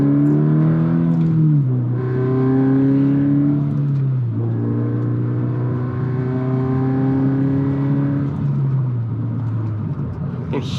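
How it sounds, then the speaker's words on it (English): Toyota 86 / Subaru BRZ engine with its sound generator, revving and shifting through a corner, the droning note rising and falling in several swells, loud and close from inside the car. "You can hear that sound generator going around kind of the first corner, coming out of it."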